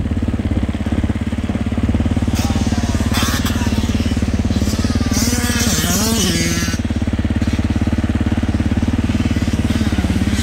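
Two-stroke 250 motocross bikes on a sight lap at a track, a loud, continuous, buzzing engine drone with rising and falling revs as the bikes pass close by.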